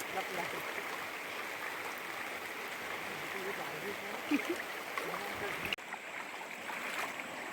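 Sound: river water flowing

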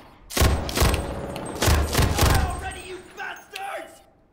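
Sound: gunshots in a video game

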